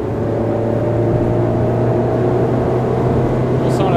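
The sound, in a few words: Ferrari sports car driving on country roads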